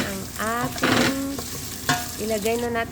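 Onions sautéing in a pan with a bright crackling sizzle, stirred now and then, while a voice talks over the frying close by.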